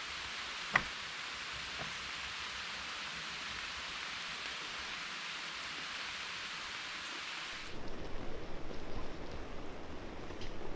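Rain falls outside in a steady even hiss that changes to a rougher, heavier patter near the end, with a single sharp tap early on.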